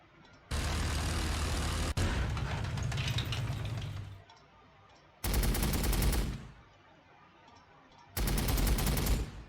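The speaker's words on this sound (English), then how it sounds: "I've got nothing else to shoot at, so might as well take a few pot shots" Gunfire from the strategy game Warhammer 40,000: Sanctus Reach with Astra Militarum units: three loud, sustained rattling bursts of rapid shots separated by short quiet gaps.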